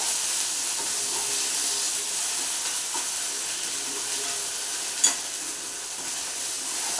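Spices with ginger powder sauté in a hot pan, sizzling with a steady, bright hiss throughout and one sharp tap of a spoon partway through.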